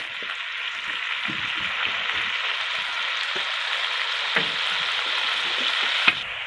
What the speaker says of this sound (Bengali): গ্রেভিটা সুন্দর করে ফুটে উঠেছে